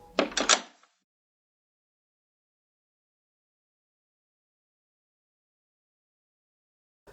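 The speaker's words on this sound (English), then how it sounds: "The handle twists." A door handle rattles and turns in a couple of quick metallic clicks and clunks at close range, then complete silence follows.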